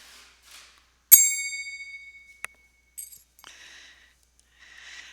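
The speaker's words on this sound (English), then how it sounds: "click the two edges together, and it should make a clear bell tone." A bright metallic clink of finger cymbals struck edge to edge rings out and slowly decays, followed by a few lighter taps and faint chiming.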